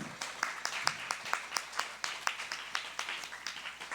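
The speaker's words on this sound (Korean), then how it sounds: "박수로 축복해 주시고 환영해 주시고요" A church congregation gives scattered, light applause to welcome and bless new members at a completion ceremony during a Sunday worship service, the claps sparse and moderately distant with a faint hum underneath.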